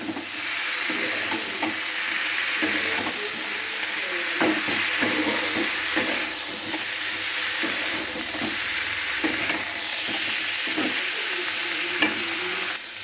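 Flat beans fry with salt and a little turmeric in a pan, a steady close sizzle with frequent stirring scrapes and clinks over about thirteen seconds, no voices.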